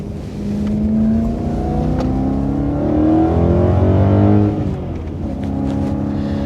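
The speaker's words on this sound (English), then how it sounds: "The car pulls hard." A BMW E92 M3 of about 400 horsepower accelerates hard, its engine note climbing in pitch through rising revs, dipping at a shift and pulling again, loud and close with no talk over it.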